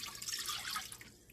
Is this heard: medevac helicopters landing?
no